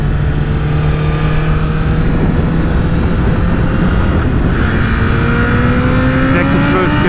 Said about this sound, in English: Way too fast, this motorcycle